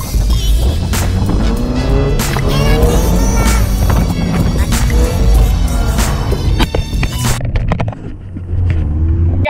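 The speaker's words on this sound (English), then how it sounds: "That was my first time ever drifting on a track and not doing donuts." Car drifting on a race track, engine roaring loud and close with sustained tire squeal throughout, the revs rising and falling, briefly dipping near the end before picking back up.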